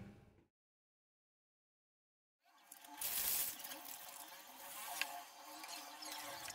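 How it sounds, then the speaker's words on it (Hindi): Water poured into a homemade DC room cooler, a steady splashing pour that starts after a brief silence and runs continuously, close and moderately loud. "तो इसमें मैं अभी पानी डाल लेता हूँ।"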